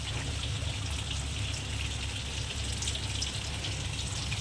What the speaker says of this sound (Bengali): কাঁচকলাটাকে বেশ ভালো করে ভেজে নেবো